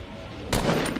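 A short burst of video game gunfire during an ice storm event, starting abruptly halfway through as a loud rapid crackle of shots after a quiet background hum, with no speech.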